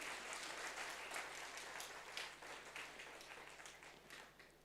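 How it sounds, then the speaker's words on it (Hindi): An audience at a motivational lecture applauds steadily, a thick wash of many hands clapping that slowly tapers off, with a faint low hum underneath and no talking. "ताली बजाइए"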